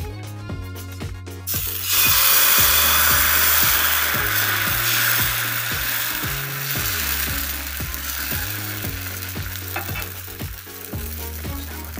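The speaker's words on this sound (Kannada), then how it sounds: "ಈಗ ದೋಸೆ ಹಾಕ್ತಾ ಇದ್ದೀನಿ ನಾನು" Millet dosa batter sizzles loudly as it is spread across a hot pan, a steady crackling hiss with faint scraping and clinking underneath, lasting most of the stretch.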